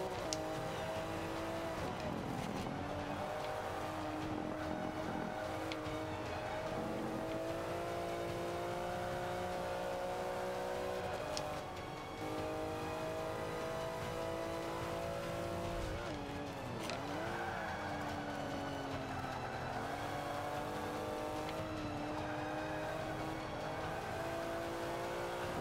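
A RUF Rt race car engine in Forza Motorsport 5 at Spa howls and revs through gear changes for a long stretch, with brief tyre squeal, other cars nearby and a voice talking over it.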